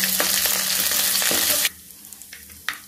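Chopped ginger dropped into black mustard seeds frying in hot oil in a pan, a loud steady close sizzle for over a second that cuts off abruptly, followed by a few light clicks and taps.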